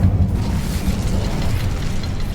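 A fire spell cast in Hogwarts Legacy, heard as a loud, dense burst of flame that roars steadily for a couple of seconds with no voices over it.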